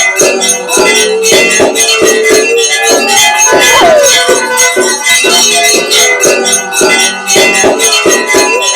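A Kali temple bell in Bhojpur rings continuously in rapid, bright strikes, loud and close, with a dense metallic ring that never quite dies between hits.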